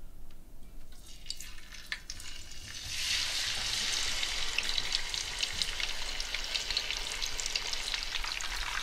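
Sea bass lands in a hot oiled pan and sizzles, a steady loud crackling fry that swells after a few seconds and holds evenly, close up, with no voices.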